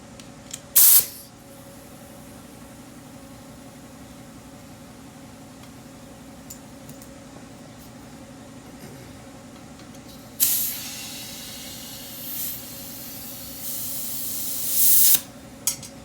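Compressed air hisses into a flat tire through an open valve stem with the core pulled, heard as a short burst early on, then a loud, sustained hiss lasting several seconds with brief breaks.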